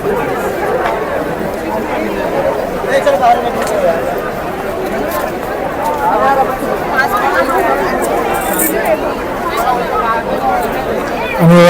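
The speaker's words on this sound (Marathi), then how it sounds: "सेल्फीसाठी खूप गर्दी आहे" Dense crowd chatter at the Kala Ghoda art festival selfie point in Mumbai, a steady loud babble of many overlapping voices close around, continuous throughout.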